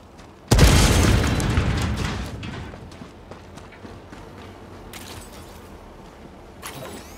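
Grenade explosion in Helldivers 2: one sudden loud boom that rolls and decays over about two seconds, followed by scattered debris clatter and a couple of quieter later bursts.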